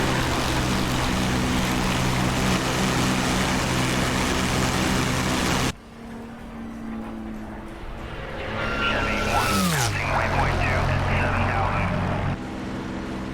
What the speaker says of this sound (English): The very best flyby sounds in flight simulation, DCS world, people.